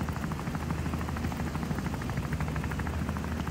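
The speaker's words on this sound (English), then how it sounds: "Subject 103 is going for the helicopter. I am a helicopter." A helicopter in the video game Wobbly Life whirs steadily with a constant rotor chop and engine drone, loud and close, with no talk over it.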